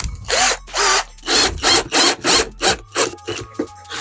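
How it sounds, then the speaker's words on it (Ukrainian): A drill pre-drills pilot holes for screws in a wooden armrest: a close, loud run of about ten short bursts in a steady rhythm, each with a whirring pitch, and the later ones are shorter. "Потрібно завжди місця прикручування шурупів е, трішки надсверлити."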